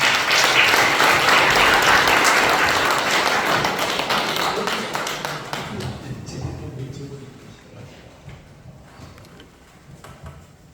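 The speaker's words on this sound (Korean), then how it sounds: "이제 김태우 박사님 나오실 때 박수로 환영해 주시면 감사하겠습니다." An audience at a lecture event applauds to welcome a speaker to the stage, loud, busy clapping that gradually thins and fades to scattered claps, with a voice speaking as it dies down.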